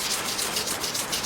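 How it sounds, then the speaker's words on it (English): Fine 1500-grit sandpaper rubbing over an Epiphone SG guitar body, a steady close swishing scrape in even back-and-forth strokes with no voices. "This is 1500 sandpaper"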